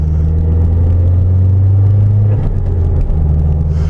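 A modified Mazdaspeed3 rolls along slowly, its engine a steady low rumble with a constant drone throughout, close and loud with no talk.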